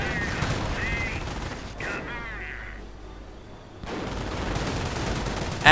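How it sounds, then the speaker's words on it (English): Heavy gunfire and bombardment from a WWII strategy video game pound a bunker holding a machine gun, with dense, loud bursts and blasts running almost throughout and a brief lull in the middle. "bunker with a machine gun in it, getting quite a bit bombarded"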